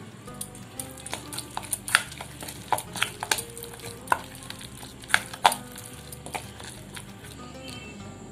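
Sweet corn vada batter is mixed in a bowl. It gives a close run of sharp, irregular clicks and taps over a soft bed of wet stirring noise, with no one speaking.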